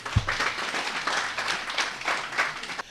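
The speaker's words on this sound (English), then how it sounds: "Give yourselves a round of applause for being here." An audience in the WBS Auditorium at Makerere University applauds, a dense, steady patter of many hands clapping at moderate distance.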